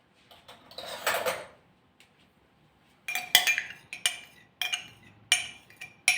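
A spoon clinks against dishes in a home kitchen while cake batter is made with ghee and oil: a burst of clattering, then a pause, then a series of sharp, close metallic taps at roughly regular intervals, with no talking.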